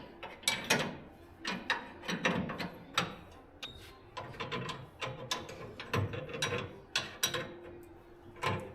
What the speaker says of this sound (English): Let me loosen these nuts up here